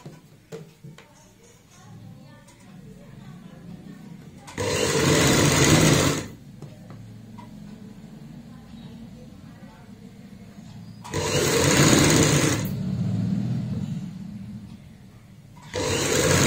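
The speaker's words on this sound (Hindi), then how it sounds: "ऊपर से यहाँ पे सिलाई लगानी है" A sewing machine stitches piping onto a sleeve in three loud bursts of running stitches, each about one to two seconds long, separated by quieter handling sounds.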